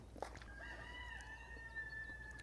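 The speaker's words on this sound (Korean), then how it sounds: "닭이 시도 때도 없이 우네요." A rooster crows at a Korean reservoir picnic spot, heard at moderate distance as one drawn-out call over a steady low outdoor hum, with no talking.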